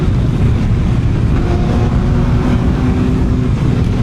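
A CFMOTO 750 SR-S motorcycle engine drones loudly and steadily, with faint tonal shifts hinting at quickshifter upshifts at low revs, heavy low rumble and road or wind noise throughout.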